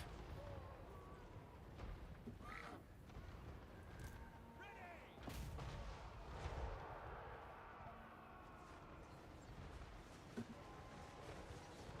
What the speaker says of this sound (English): So see the guns just go off.